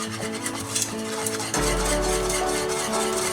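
Beef broth being whisked for hamburger soup, a steady close scraping and swishing that runs without a break, growing fuller and louder partway through, alone with no talk.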